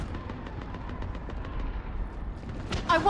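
Gunfire in Mass Effect 3, a steady rapid stream of rattling shots at moderate loudness, then a sharper burst and clatter at the end, with no talking.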